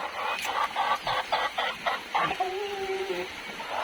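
Hens cluck close by in a quick series of short clucks, ending with a drawn-out, wavering call.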